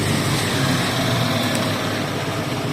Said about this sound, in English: Noise lorry.